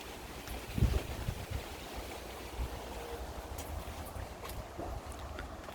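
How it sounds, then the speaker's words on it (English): Wind gusts outdoors at dusk in summer, a steady broad rush with a louder buffet near the start, faint and alone with no talk. "It's getting windy."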